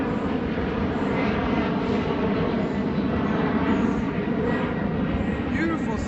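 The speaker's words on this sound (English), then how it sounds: "Here comes another plane." Airplane passing overhead near the Jefferson Memorial in Washington DC at sunset, a steady broad jet roar that holds throughout, with crowd voices mixed underneath.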